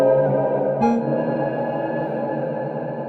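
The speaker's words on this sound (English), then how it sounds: "That was a really nice sounding reverb" A sustained, harmonically rich guitar tone washed in long reverb from a Strymon Nightsky pedal, with a fresh note struck partway through that rings out and decays smoothly.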